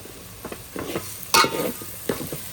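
Chili and sola vegetables cooking in a pan, with a low frying sizzle broken by several stirring scrapes and one sharp metallic clank, close up and without voices.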